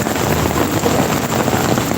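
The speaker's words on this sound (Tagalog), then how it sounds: "Lakas ng ulan, pauwi na sana ako." Heavy rain pours at the Pasig River Esplanade, a loud, dense, unbroken hiss of drops with a little wind buffeting the microphone.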